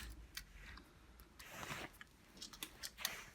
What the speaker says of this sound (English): Trying to cut it and snap it out.